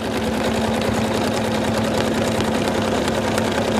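Embroidery machine stitching black fabric for the boots of an in-the-hoop Santa doll, a steady loud rapid mechanical whir and rattle running continuously throughout with no talking.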